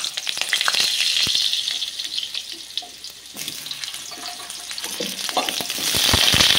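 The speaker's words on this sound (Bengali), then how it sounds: "মুঠাগুলো ভাজার তেলের মধ্যে আমি এবার আলুগুলোকে ভেজে দেবো।" Steady sizzling of potatoes frying in hot oil left from frying soybean dumplings, with occasional clicks and clatter of utensils throughout, no talking.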